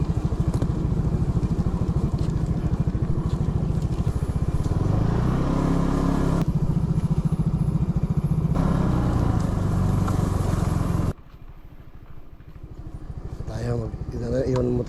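A motorcycle engine runs steadily and loud up close on a rough mountain road, its rumble continuous for about eleven seconds before cutting to a quieter idle-like hum with faint voices.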